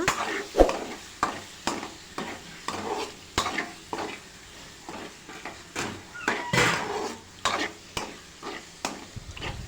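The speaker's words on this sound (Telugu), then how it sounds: "ఇంకా దీన్ని అయితే మనం కలుపుతూనే ఉండాలి" Goat blood curry stirred in a pan, a spoon scraping and knocking against the metal in a steady rhythm of sharp clicks over a low sizzle, close and moderately quiet.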